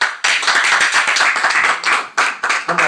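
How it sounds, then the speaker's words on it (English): Church congregation applauding after a sermon, a loud, close burst of many hands clapping in dense, uneven rhythm with brief dips before surging again. "Come on, give him a hand clap."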